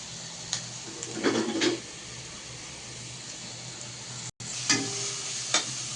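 Peanuts and sesame seeds sizzle in a pan while being stirred for a drumstick leaf fry, a steady soft crackle broken by a few louder scraping stirs, close and fairly quiet with no talk.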